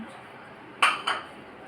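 Metal dishes and pots are set down in a home kitchen, giving two quick clanks close together, near and fairly loud, over a quiet room.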